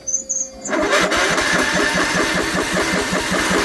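A John Deere 102 riding mower engine cold-starts after brief cranking and catches into a steady, loud, rhythmic chugging idle that runs on close by, with no talk.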